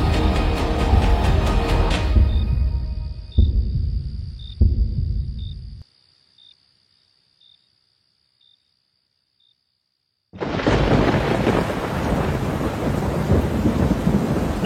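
Heavy rain pours loudly through a thunderstorm with rumbling thunder cracks, then cuts to near-silence with faint dripping pings before the downpour returns full and close, as a sound effect in a Bengali audio drama.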